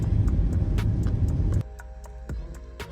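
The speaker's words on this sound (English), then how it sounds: "Oh, just look at all this traffic." Road traffic on a rainy day: a steady wash of car and tire noise for over a second, then a quieter stretch with light ticking sounds and a distant hum.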